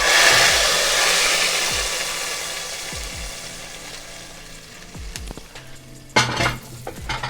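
Onions browning in ghee for a beef nihari tadka sizzle and crackle loudly in a pan, with repeated stirring scrapes and clinks, the frying hiss easing off before a burst of stirring near the end.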